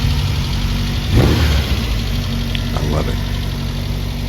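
Engine of the Brubaker Box, a fiberglass-bodied kit car, running steadily at close range with a brief rev, while a voice talks over it.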